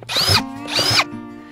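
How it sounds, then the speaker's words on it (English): Two short bursts of a power drill whining up to speed and stopping, close by, with a brief pause between them, drilling holes in a plastic bucket. "I'm going to drill some holes in this"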